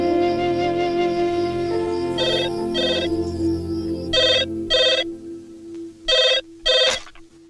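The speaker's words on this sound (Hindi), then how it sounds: "सर वो घर से फोन था।" A telephone rings indoors in short electronic bursts, about six rings in a row, above a steady tonal hum in the background.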